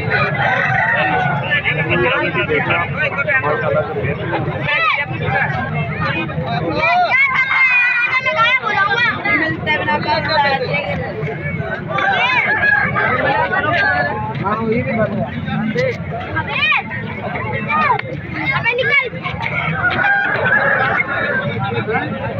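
Aseel roosters cluck and crow amid a busy crowd at a rooster market in Tando Adam, with several people talking loudly over the birds throughout.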